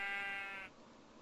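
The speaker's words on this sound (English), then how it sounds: "Wow, that was loud sheep right in my ear." A single loud sheep bleat in Minecraft, close and harmonic, cutting off after about half a second and leaving quiet background.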